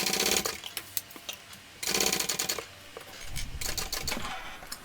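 A sewing machine stitches a shoulder bag in rapid, rattling bursts, running in several spurts of a second or two separated by short pauses, fairly close and moderately quiet.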